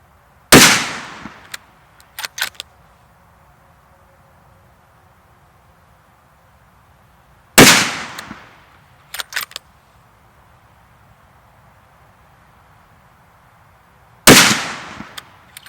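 Three loud, sharp rifle shots from an ATA Turqua synthetic black adjustable rifle ring out several seconds apart, each followed by a quick pair of metallic bolt clicks in otherwise quiet surroundings.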